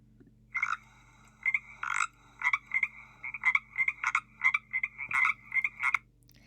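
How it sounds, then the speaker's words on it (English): Pacific chorus frog giving its familiar ribbit call, a string of about a dozen quick two-part croaks in a steady rhythm, fairly close and clear over a faint low hum. "it's the Pacific chorus frog that gives us the familiar ribbit."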